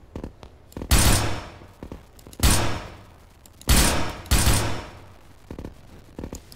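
Gunfire from guns in a squad-based sci-fi bug-hunting video game: several loud, sharp volleys of shots, roughly four bursts spaced about a second apart, plus scattered quieter shots between them.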